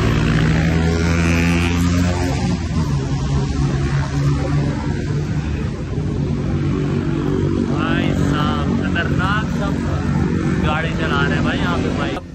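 Motorcycles and tuk-tuks on Khaosan Road in Bangkok at night: a loud, continuous engine drone with passing revs and buzzing motors, crowd chatter and voices mixed in throughout.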